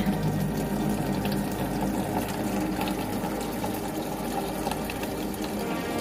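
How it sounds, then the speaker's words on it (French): Rainwater from a makeshift collection system pours steadily from a hose or spout onto a small terrace vegetable garden, a constant close rushing flow with no pauses. "Je vais essayer de faire un essai d'arrosage pour vous montrer."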